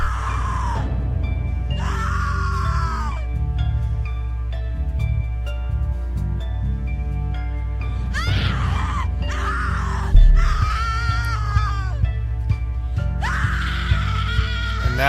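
A woman screams repeatedly in The Cat Lady video game, shrill wailing cries that come in separate bursts over a droning musical background.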